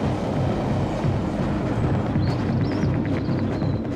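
A railroad train carrying a large telescope mirror across the country rumbles steadily with low, continuous rolling noise, and faint high squeals and clicks rise briefly partway through.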